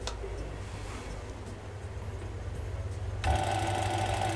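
An industrial sewing machine driven by a servo motor runs at a steady low setting with a continuous mechanical drone, then its pitch and intensity step up sharply near the end as the speed increases, loud and close with no talking.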